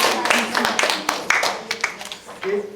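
Scattered clapping from a modest audience at a public speech contest for prize winners, uneven individual claps close by with a speaking voice over them.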